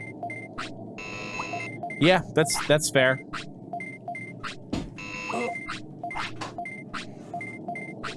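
Short electronic buzzer beeps from a Digimon World video game minigame repeat at a regular pace. Someone talks and makes vocal noises over them.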